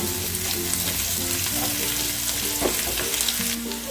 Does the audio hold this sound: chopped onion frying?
yes